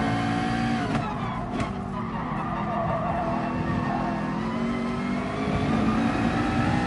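A McLaren race car in a video game roars at sustained high revs while racing a Lancer, a loud continuous engine drone with brief tire squeal near the start.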